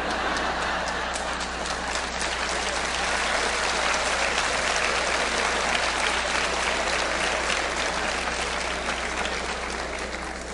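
A lecture audience at a national congress breaks into sustained, loud, even applause that holds steady for the whole stretch with no pause.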